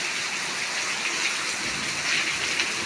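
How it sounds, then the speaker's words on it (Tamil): Heavy rain pours in Tiruppur, India, with water running off surfaces; a dense, steady hiss that stays close and unbroken for the whole stretch, with no voices. "திருப்பூர்ல மழை சரியான மழை அடிச்சு விட்டுது"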